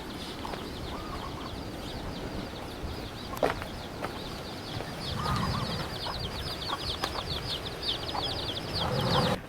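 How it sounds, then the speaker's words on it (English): Chickens cluck and chatter repeatedly at a moderate distance amid faint outdoor ambience at a park in Kauai, with a few sharper clucks standing out. "There's chickens everywhere you go."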